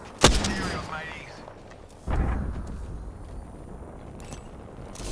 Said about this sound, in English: The enemy are shooting at me.